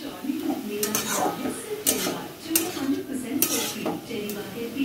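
Vegetables stirred in a pan with soy sauce, tomato sauce and oil, a spoon scraping and clinking against the metal in irregular strokes, close and fairly loud, with a faint sizzle beneath.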